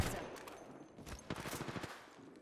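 A few quick gunshots in the Apex Legends video game, a short cluster of sharp cracks at moderate loudness, the later ones spaced in a fast rhythm.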